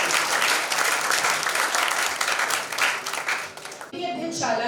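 An audience applauds guests at a physics department celebration in Ujjain, dense clapping filling the room for several seconds before a voice takes over.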